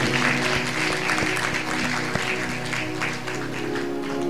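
A church congregation applauds during a Punjabi-language sermon, a steady wash of clapping that holds at an even, fairly loud level for several seconds, with faint tonal sound from instruments or voices beneath it.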